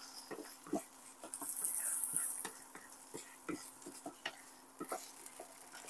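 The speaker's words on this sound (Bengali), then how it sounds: "দিয়ে ভালো করে আবার আমরা এটাকে নেড়ে নেব" A shrimp and bottle gourd leaf bharta with fresh coriander is stirred dry in a pan, giving faint, irregular spatula scrapes and taps over a quiet, soft sizzle.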